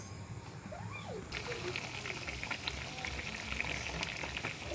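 A pot of potato curry simmers with a soft, continuous bubbling and crackle. It stays quiet and close, and a brief faint voice-like sound comes through near the start.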